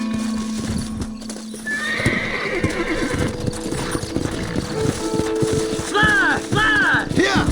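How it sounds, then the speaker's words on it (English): Horses in the Red Dead Redemption video game: steady clip-clopping hooves running throughout, joined near the end by a couple of loud, shrill neighs close by. "Horses are over here!"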